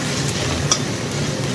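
Bagara rice with finely chopped coriander and mint is mixed in a pan, producing a steady, fairly loud sizzling and scraping hiss with no talk.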